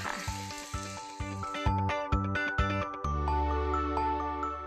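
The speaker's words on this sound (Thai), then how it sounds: "แล้วก็ผัดไปเรื่อยๆนะคะให้น้ำแห้งค่ะ" Pumpkin and egg stir-fried in a pan, a soft sizzle running under repeated spatula scrapes and clanks that settle into steadier frying hiss.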